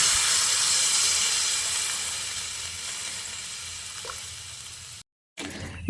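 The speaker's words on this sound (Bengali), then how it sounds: "এবার আমি এর মধ্যে দিয়ে দিচ্ছি পরিমাণ মতো জল।" Hot water poured into ground spice paste fried in a pan for a drumstick, potato and pumpkin curry gives a loud, steady sizzling hiss that slowly eases, breaks off briefly, then returns.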